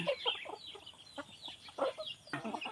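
Chickens cluck in short, scattered bursts of varied pitch, with chicks and an older hen among them. The calls are moderately close but fairly soft, with no talk.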